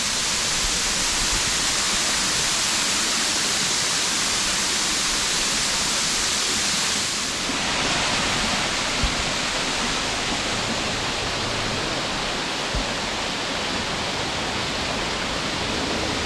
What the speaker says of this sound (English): And as the wind blows, the waterfall will change.